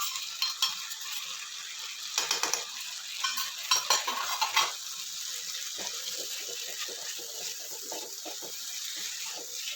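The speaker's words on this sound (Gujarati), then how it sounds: "લસણને તેલમાં ટમેટાની સાથે ખૂબ સરસ રીતે સાતરી લેશું" Garlic paste and cashew pieces sautéing in oil with tomatoes over medium heat, a steady soft sizzle broken by clusters of sharper scraping stir strokes early on, then lighter intermittent clicks; no talking.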